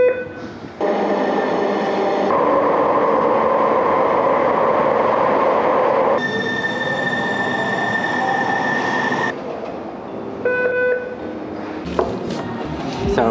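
A Seattle light rail train rolls along with rumbling wheels and shifting, high-pitched squeals and tones, growing loud and changing character as it moves through.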